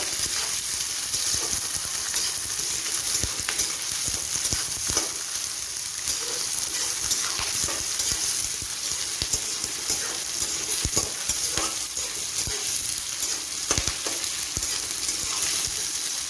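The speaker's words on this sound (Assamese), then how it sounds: "পিঁয়াজখিনি আমি এতিয়া ৰঙালৈকে ভাজি থাকিব লাগিব।" Onions frying in a pan for a meat curry: a dense, continuous loud sizzle with frequent stirring clicks and scrapes throughout, close up and with no talking.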